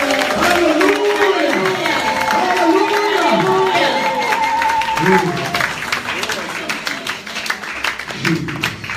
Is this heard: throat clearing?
no